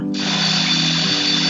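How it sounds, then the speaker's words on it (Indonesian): A drill whines steadily nearby in a single sustained burst for over a second, with no talk over it. "Aduh, orang ngebor ya."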